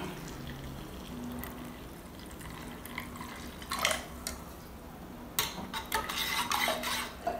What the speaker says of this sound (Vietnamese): Chúng ta thêm 1 cốc nước